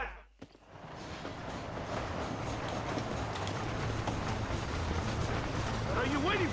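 Rumbling, clattering rush of a train in the video game Red Dead Redemption, building from a soft start to a steady loud roll, with a brief voice-like cry near the end.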